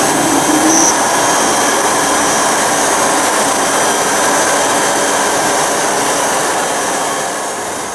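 An ASL RT3 concrete grinder runs with a loud, steady, broadband roar that stays constant throughout and eases off slightly at the end, with no talk.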